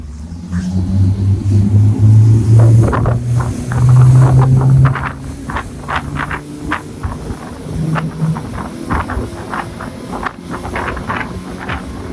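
A 6m expedition tender boat runs at full speed on twin outboard engines, giving a loud, close engine drone with wind buffeting the microphone, a surging rise early on, then a steady rushing roar.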